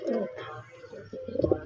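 Teddy pigeons coo close by in soft, low, throaty murmurs, a few short rolling calls in quick succession.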